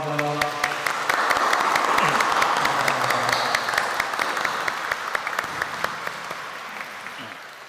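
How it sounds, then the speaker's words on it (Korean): A church congregation at a Pentecost Sunday Eucharist service gives sustained, loud applause to welcome members, with a voice speaking over the start before the clapping gradually fades. "여러분들 뜨거운 박수로 환대해 주시기 바랍니다"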